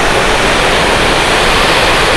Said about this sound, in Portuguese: Olha só a quantidade de água que está caindo em uma velocidade enorme.